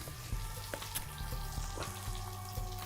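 Oil sizzling and frying in a pan while grilled chicken kabobs are finished in a home Indian kitchen, a steady close crackle with a few sharper pops and utensil taps throughout, no voices.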